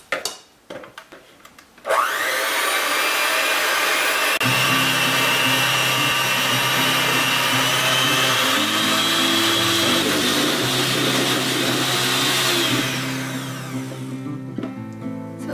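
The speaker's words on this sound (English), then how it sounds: "Mix the egg whites until you see them starting to become foamy and has soft peaks." Egg whites whipped in a bowl with an electric mixer, a loud steady whirring drone that starts abruptly and runs continuously for about eleven seconds, shifting pitch slightly before easing off near the end.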